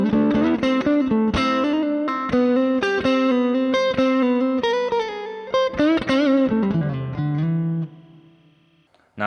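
Electric guitar playing a slow melodic lick opening with double stops, clean tone with a touch of effects, sustained notes and bends ringing out before fading at the end, no talking.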